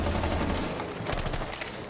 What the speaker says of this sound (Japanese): このラウンド見て聞いてほしいかなのが、エラの銃声ですね。